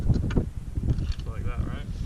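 Steady wind gusting across a frozen lake during ice fishing, a constant rough roar buffeting the microphone up close.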